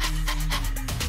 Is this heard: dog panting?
yes